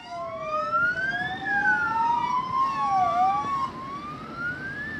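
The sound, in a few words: fire engine siren arriving at drill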